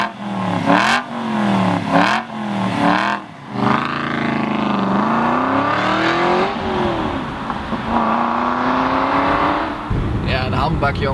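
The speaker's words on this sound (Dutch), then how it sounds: "Boven de 4000 toeren gaan er wat kleppen open in de uitlaat. En begint zo'n auto te brullen." An Aston Martin V8 Vantage Roadster's engine revs hard several times, then roars steadily with a deep, loud exhaust note, exhaust valves opening above 4000 rpm, rising and falling under acceleration.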